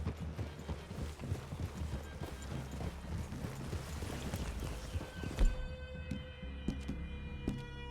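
Horses' hooves clip-clop at a walk in Red Dead Redemption II, a steady run of soft, close thuds in the first half that fades to quieter scattered steps, with a faint siren-like tone in the background.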